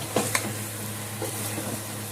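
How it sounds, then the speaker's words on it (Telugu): A goat head curry sizzles in a cooker while being stirred, giving a steady soft frying hiss with a few brief scraping clinks near the start, heard close and without talk. "ఇప్పుడు మళ్ళీ కలిదిద్దాం."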